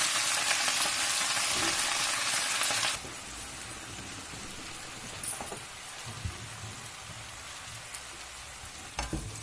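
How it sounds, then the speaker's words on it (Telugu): Gongura leaves frying in a pan, starting with a loud dense sizzle that drops sharply to a quieter crackle, with intermittent scraping and stirring knocks. "ఇది ఇట్లా కలుపుతూ ఫ్రై చేసుకోవాలి"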